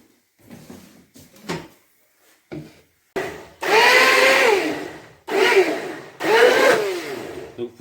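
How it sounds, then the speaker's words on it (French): A blender purees candied bell pepper with a little water in several loud whirring bursts of a few seconds each, after a run of quieter handling noises. "on va prendre le poivron confit qu'on va mixer avec un peu d'eau"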